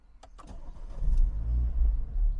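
A factory-stock Renault Megane 3 RS Trophy engine starts: a few sharp clicks, then the engine cranks and catches into a loud, close, low throbbing idle that holds to the end.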